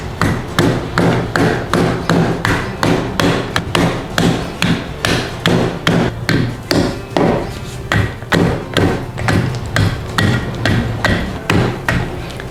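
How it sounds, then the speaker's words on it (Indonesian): Dried cassava pounded to a fine flour with a wooden pestle in a wooden mortar for Javanese tiwul: loud, close, steady rhythmic thuds, roughly two per second, continuing without speech. "Kita tumbuk sampai halus."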